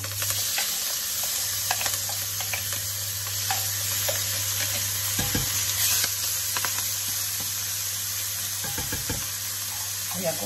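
Chopped onion and parsley fry in hot oil for a seafood and hake casserole, giving a steady, bright sizzle throughout, with occasional knocks and scrapes of utensils against the pan close by.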